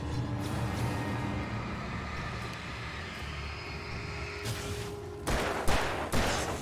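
Gunshots from a handgun in Alan Wake burst out near the end, a quick cluster of loud cracks following several seconds of steady rumbling game ambience.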